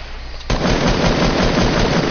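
Gunfire in Fortnite Battle Royale, a video game: after a brief quiet moment, dense, loud, continuous shooting with overlapping shots and blasts that fill the rest of the clip.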